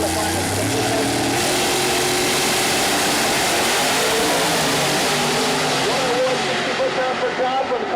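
Nitrous Pro Mod door-slammer drag cars at Mooresville Dragway give a loud, sustained engine roar with revving harmonics that fills the whole stretch before easing slightly near the end.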